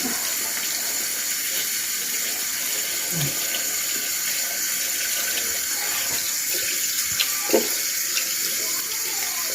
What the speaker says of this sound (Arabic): نغسل وجهي وانا معكم